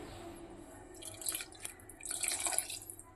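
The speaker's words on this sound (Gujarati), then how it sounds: "હવે આપણે આમાં પાણી નાખીશું।" Water is poured from a glass into a cooking pot of green pigeon pea curry, a short run of splashing and trickling that starts faint, pauses, then grows louder toward the end, with no talking.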